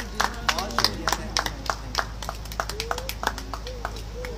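Guests at an aqiqah ceremony clap in scattered, uneven bursts, the sound fairly faint, with people talking and murmuring throughout.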